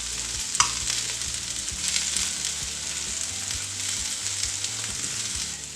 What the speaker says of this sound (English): So I'm just gonna throw in my chicken.